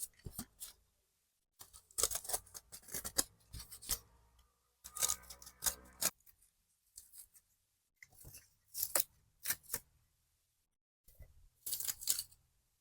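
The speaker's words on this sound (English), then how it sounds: "I'm going to take the box cutter, and I'm going to cut that piece out." Box cutter sawing through a styrofoam block in short bursts, scratchy rasping strokes separated by pauses, close and quiet, no talking.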